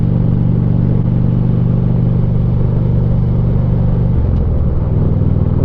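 A Harley-Davidson Street Glide motorcycle rumbles loudly and steadily while riding through Niles Canyon, a deep continuous engine drone with a slight shift in tone near the end.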